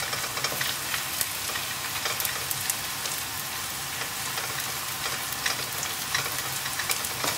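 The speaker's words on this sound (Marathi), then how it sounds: "आतां आमी ऑनियन्स आमकां कंटिन्यू करुया फ्राय करपाक." Onions frying in a pan for butter chicken, a continuous crackling sizzle with fine popping spatters and occasional stirring scrapes, close and steady throughout.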